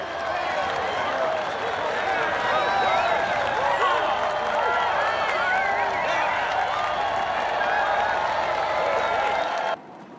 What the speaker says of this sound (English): Here are the stars of the day enjoying a round of applause from the team and fans.